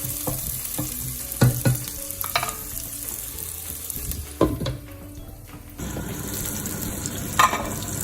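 Garlic sizzles steadily in hot oil in a pan, with a few louder clatters of stirring over the constant frying hiss, close and alone.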